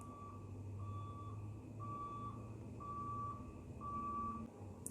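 A truck's reversing alarm beeps steadily, about once per second, over a low engine rumble.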